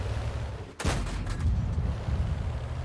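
Tank cannon shot in World of Tanks on the Live Oaks map: a single loud, sharp blast with a booming decay over a steady engine rumble.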